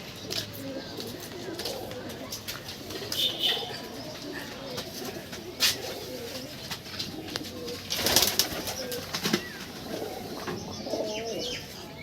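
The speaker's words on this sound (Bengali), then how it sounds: "এগুলো হচ্ছে ইন্ডিয়ান ঘুঘু মানে লাল কালার ঘুঘু" Indian red collared doves coo softly and repeatedly amid a busy backdrop of other bird chirps and a faint murmur of voices, with a few sharp clatters.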